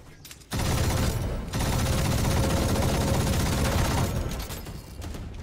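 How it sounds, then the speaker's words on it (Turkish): Sustained automatic gunfire from an Odin machine gun in Valorant, a loud continuous burst that breaks briefly and then resumes before tapering off. "Mermi bitirdik abi. 100 mermi harcadık lan adamlara."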